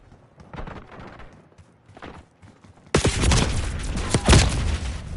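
Rifle gunfire in the Black Ops 6 video game, a three-round burst weapon. Quiet game ambience gives way to a sudden, loud run of sharp, clustered shots.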